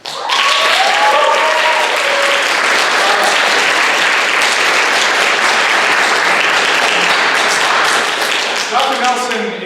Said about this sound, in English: can I get a quick round of applause for our guest of honor